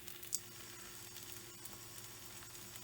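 Frankie masala mixture cooks in a non-stick pan with a soft, continuous sizzle, faint and even throughout, broken by one brief click early on.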